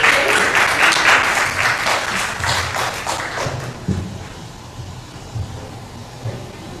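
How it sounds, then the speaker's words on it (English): An audience at a youth forum breaks into applause that starts full and gradually thins to scattered claps, with low thumps and room rumble underneath. "Let's give a round of applause for Sybil."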